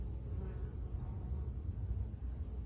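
Honey bees hum in a soft, continuous buzz around the hive, faint and steady with no voices.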